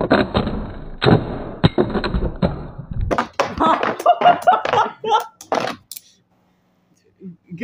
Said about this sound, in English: the Beyblade hit the camera